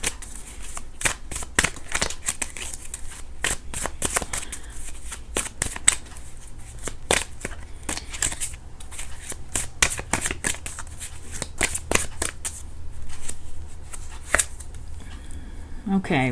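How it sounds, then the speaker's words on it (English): Tarot cards shuffled and cut by hand, a steady run of crisp riffling snaps and soft slaps, close and fairly loud, with a quiet low background hum throughout. "I can even cut the cards here."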